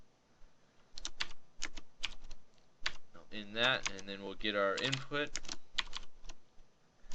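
Typing on a computer keyboard, bursts of quick light key clicks that pause while someone speaks in between.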